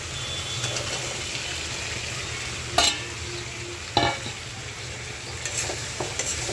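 Spice masala cooked down in oil until the oil separates, sizzling steadily and close up, with a few sharp stirring clinks and scrapes from the pan and no voices.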